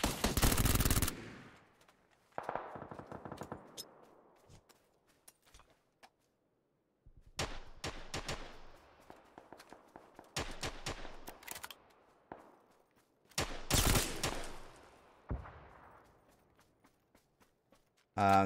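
Gunfire in the video game PUBG comes in sharp bursts of rapid automatic shots and single cracks, with echoing tails, separated by quieter gaps of footsteps and movement.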